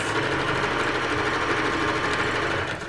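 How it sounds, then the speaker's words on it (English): A sewing machine stitches steadily around a sequin fabric tote bag, a continuous close mechanical whir with rapid needle chatter, easing off at the very end. "I'm just going to sew all the way around"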